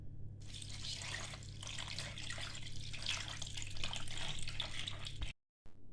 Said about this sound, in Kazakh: 1 литр суды құямын